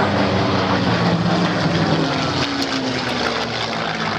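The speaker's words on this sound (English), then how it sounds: "Where else on the planet are you going to see 2 Mustangs chasing a MiG?" P-51 Mustang propeller fighters chasing a MiG-15 jet in a FlightGear airshow simulation, a loud, steady engine roar and drone throughout with no talking.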